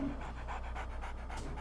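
Dogs in the game 7 Days to Die pant in a quick, steady rhythm of breathy huffs, moderately close, over a low background hum.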